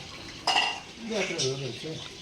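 Dishes, pots and utensils are washed by hand, with a sharp metallic clank followed by softer scraping and clinking of pans close by, under faint background voices.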